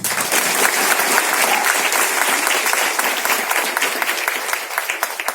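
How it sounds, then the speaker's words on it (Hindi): Loud, dense applause from a large audience at a distributor training event in Thane, many hands clapping evenly and continuously throughout with no pause and no talking. "जोरदार ताली"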